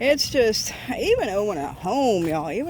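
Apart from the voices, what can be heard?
No everyday noise stands out behind the speech.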